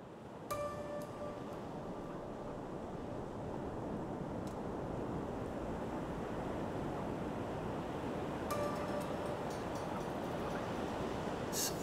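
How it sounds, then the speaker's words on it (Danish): Strong wind of 35-50 knots roars over breaking waves on the open sea, a dense, continuous wash of surf and wind noise at steady loudness throughout, with a few faint tonal clicks. "der blæser mellem 35-50 knops vind"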